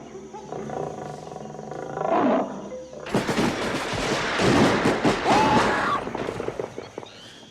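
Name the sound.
tiger roaring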